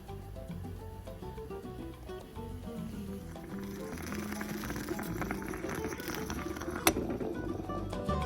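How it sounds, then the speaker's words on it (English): Sugar mixed with drops of coffee is stirred rapidly into a paste, a continuous scraping and clicking of a spoon against a cup at close range. "mezcla el azúcar muy rápido para hacer la pasta"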